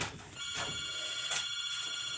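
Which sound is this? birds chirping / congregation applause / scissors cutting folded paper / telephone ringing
telephone ringing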